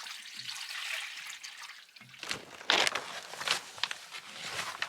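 Water poured and splashing in a snowy sheep barn, a trickling, gurgling flow that grows louder and busier partway through, close by and without talk.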